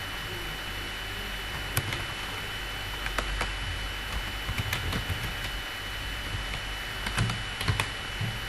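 Computer keyboard typing a delivery address into a Microsoft Word document: a steady run of light, irregular key clicks with occasional sharper taps, close up over a constant background hum, with no speech.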